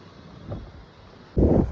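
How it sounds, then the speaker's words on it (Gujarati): Gusty windstorm wind buffets the microphone in low rumbling bursts outdoors at 6:30, a short gust early and a stronger, louder blast near the end. "અહીં પરવડીનું વાવાઝોડું શરૂ થઈ ગયું છે"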